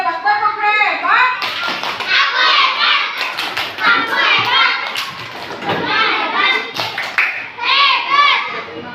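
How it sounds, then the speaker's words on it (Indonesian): Elementary school classroom children performing a rhythmic 'tepuk hebat' clap chant together, bursts of hand claps mixed with children's chanting voices, loud and close throughout. "Kasih tepuk hebat. Tepuk hebat."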